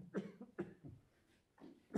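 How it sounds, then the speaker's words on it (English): A person coughs in a series of quiet, rough bursts, three close together then another pair, during an evening of Manx drama. "Sorry, this cough is still troublesome."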